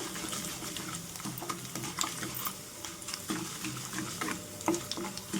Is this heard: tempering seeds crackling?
yes